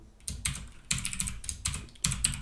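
Someone types a bash shell script on a computer keyboard, with quiet, close bursts of rapid keystrokes separated by short pauses.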